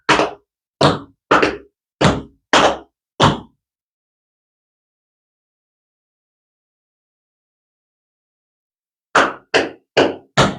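Tap shoes strike a hard floor in riff and stamp steps: six sharp, evenly spaced clacks, a long silence, then four more quick taps, all close and crisp.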